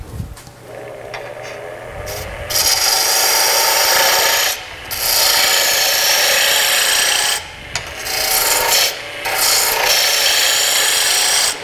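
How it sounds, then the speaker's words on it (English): A wood lathe turns a tail stock handle as a gouge makes a bevel-rubbing cut, giving a loud, rough, continuous rasping scrape in long passes broken by brief pauses. The sound is close, with no talk. "And I'm using a bevel rubbing cut here."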